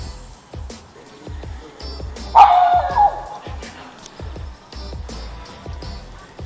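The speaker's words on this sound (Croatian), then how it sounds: "Malo su me psi poremetili" Several dogs bark and yip in short repeated bursts, with a louder whining outburst near the middle and steady barking around it.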